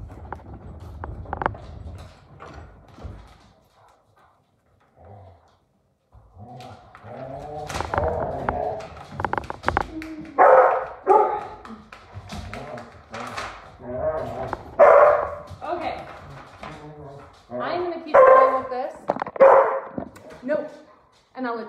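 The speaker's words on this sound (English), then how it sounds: "I apologize again for my crazy dogs" House dogs bark and yip repeatedly, some whimpering mixed in, during an indoor crafting session applying a patriotic transfer to a vintage ammunition box; a person keeps talking throughout as the barking rises and falls.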